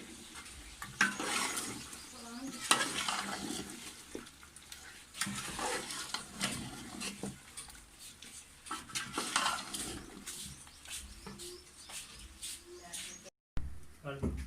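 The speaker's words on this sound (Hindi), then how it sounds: "अब हम इसमें कटी हुई हरी मिर्च और टमाटर डाल देंगे और इसे अच्छे तरीके से भूनेंगे।" Chopped green chilies and tomatoes sizzle and are stirred in a pan, with scraping and clinking of utensils against metal throughout, moderately quiet and close, while someone talks over it.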